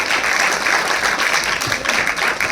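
Students at a website inauguration ceremony break into sustained, dense applause, a steady wash of many hands clapping together throughout.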